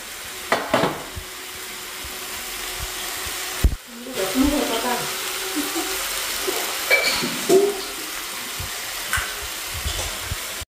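Leafy greens cooking in a pan give a steady, fairly loud sizzle with occasional clinks and knocks of utensils, and faint voices in the background.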